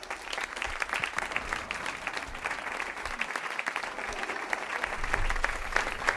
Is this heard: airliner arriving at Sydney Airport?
no